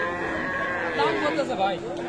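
Cattle at a rural livestock market selling Friesian-cross bull calves, with a single drawn-out moo rising over background crowd chatter.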